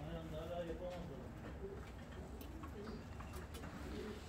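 Pigeons cooing at a Bursa loft of bred Turkish şebap pigeons of the karacı and sabuni types, soft low repeated coos, faint and somewhat distant, with low background rumble and a few light clicks.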